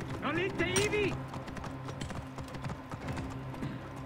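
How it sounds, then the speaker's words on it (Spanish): Horse hooves clip-clop steadily in Assassin's Creed Origins, a soft continuous trot beneath a voice talking over game background sound. "Vamos a irnos en caballo."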